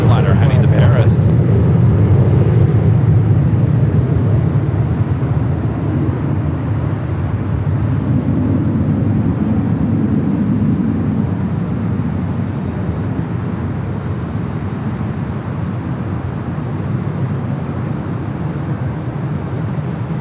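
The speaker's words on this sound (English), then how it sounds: "Next takeoff on the south side is an Air Tahiti Nui Dreamliner heading to Paris." Air Tahiti Nui Dreamliner taking off from LAX, a continuous broad jet roar rumbling and swelling at a distance for a long stretch, with a voice talking over it.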